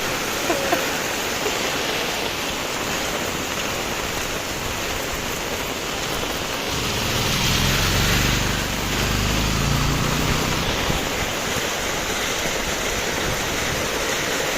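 Strong wind and heavy rain sweep through Mandangad, a continuous roaring downpour that swells with a deeper gust midway before settling back to a steady hiss.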